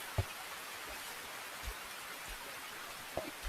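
Rain falling during a mountain hike on Gunung Panjang in Sukamakmur, Bogor, West Java, a steady soft hiss with occasional close thumps and rustles from the hikers.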